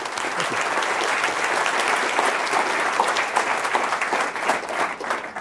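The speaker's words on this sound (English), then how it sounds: "let's give him a warm round of applause" Audience applause at a Stanford talk on venture capital, a steady, dense wash of clapping from a large crowd that stays loud and even throughout.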